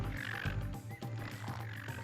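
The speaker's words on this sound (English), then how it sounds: "I'm gonna wait on these frogs" Frogs croak in Donkey Kong Country Returns, low throaty calls repeating in a jungle level amid soft game music and ambience, quiet throughout.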